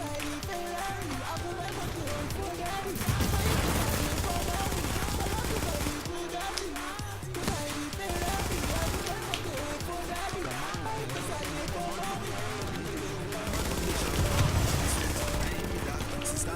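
Turret gunfire in The Division, sustained bursts of automatic fire blended with game music and effects, loud and continuous with a swell of intensity midway and near the end.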